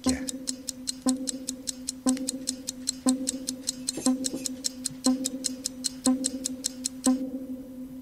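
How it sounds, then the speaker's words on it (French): A steady clock ticks at a brisk, even pace, with a louder chime-like click about once per second, continuing for several seconds with no voices. "Allez, 10 secondes de tic-tac."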